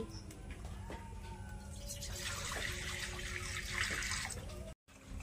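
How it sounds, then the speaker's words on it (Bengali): Water poured into a wok for boiling eggs in a rustic village kitchen makes a steady splashing rush that swells midway, then cuts off briefly near the end. "কড়াতে জল দিয়ে দিচ্ছি।"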